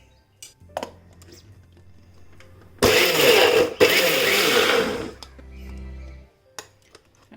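A mixer grinder blending onions for an egg malai curry, with a loud whirring burst of about two seconds that stops briefly and then runs again, set among quiet kitchen clinks and a few short spoken words.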